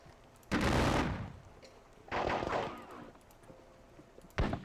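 Three booming volleys of infantry musket fire ring out in a Napoleonic battle video game, each a loud burst that trails off, with the last one brief and sharp.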